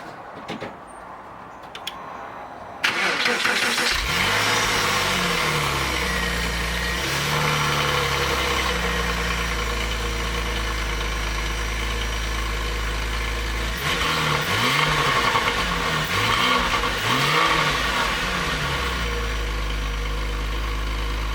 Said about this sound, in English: All right, now let's fire her up.